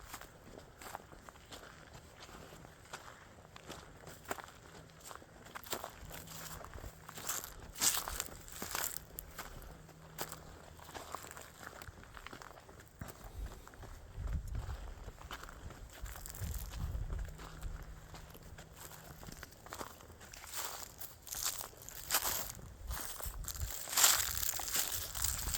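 Soft footsteps crunch and crinkle through dry leaves and brush on a hike among gum trees and boulders, creeping toward wild ducks and geese, a quiet uneven stream of steps with no talking.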